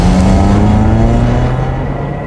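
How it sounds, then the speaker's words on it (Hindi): A car engine drones loud and close at speed, a steady low rumble with a sustained tonal hum that slowly eases off toward the end, with no voices. "गाड़ी तेज चला"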